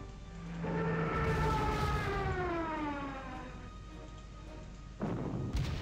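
Stuka dive bomber siren from a WWII strategy game set around Lillehammer: a loud rising-and-falling wail sweeping over a rumbling engine drone for about five seconds, ending in a burst of noise, with no talk.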